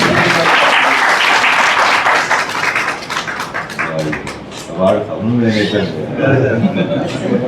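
An audience applauds at a birthday celebration for a Punjabi writer, a burst of clapping that thins into scattered claps mixed with chuckles and voices talking over it.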